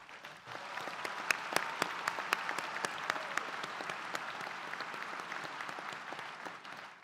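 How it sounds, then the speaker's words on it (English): Sustained audience applause fills a university School of Education spring commencement ceremony, a dense wash of many hands clapping steadily with a few sharper claps standing out, no voices over it. "let's give them another round of applause"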